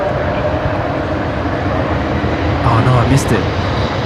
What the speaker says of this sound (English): We got an Embraer lining up here. They're just about to begin their takeoff roll.